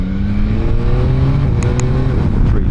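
Yamaha Tracer 9 motorcycle pulling hard through the gears, loud close engine note rising in pitch with a brief dip at a shift, then climbing again.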